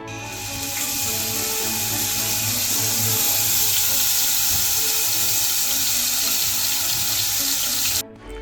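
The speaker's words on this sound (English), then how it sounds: "we need to heat the pan for at least 5 minutes so we can hear the steak sizzle" Steak searing in a pan preheated for at least five minutes gives a loud, constant sizzle, a dense hissing crackle that holds steady for several seconds and then briefly drops away near the end, with no voices.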